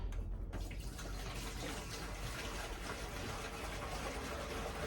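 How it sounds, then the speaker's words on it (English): Water poured from close by into the charge cooler tank of a V6 rear-wheel-drive twin-turbo Mini, a steady continuous splashing and trickling that runs for about five seconds without a break, with no talking over it. "so I'm just going to chuck some water in for now."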